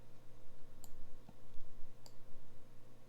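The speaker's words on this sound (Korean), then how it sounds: "이 부분을 클릭 그 다음에 클릭 드래그" Computer mouse clicks made while using Photoshop's quick selection tool: three sharp, sparse clicks spaced about a second apart, close and fairly quiet over a steady low hum.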